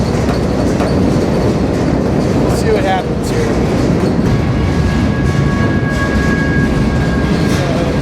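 A freight train rolls steadily with loud rumbling and clattering wheels, a thin squeal rising later, while a person riding aboard talks briefly over the noise.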